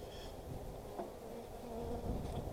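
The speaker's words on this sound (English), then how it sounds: "You can see the bees are already going to the pollen patty." A steady, close swarm of Italian honey bees buzzing continuously during installation into a hive, a dense droning hum with no voices.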